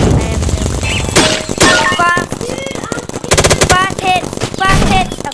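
Paintball guns firing in bursts during a paintball game, rapid repeated pops clustered in several volleys, loud and close, with players shouting and talking between and over the shots.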